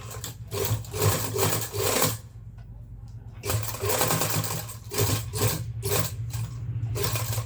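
A sewing machine stitches a zip onto a school coat, running in a loud continuous whir with a short pause midway before restarting, close and alone.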